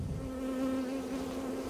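Honey bees hum steadily and close by as they are gently brushed off a honey comb back into their hive, a dense continuous buzz with a clear sustained pitch.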